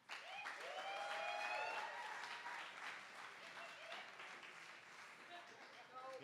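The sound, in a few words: audience applause for a poet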